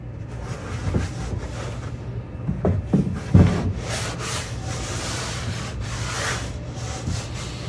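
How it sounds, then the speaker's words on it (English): Wax being rubbed by hand onto the outside of a wooden machinist's toolbox, giving a steady soft scrubbing hiss with a few louder strokes near the middle and no talk. "I'm getting a coat of wax on the outside"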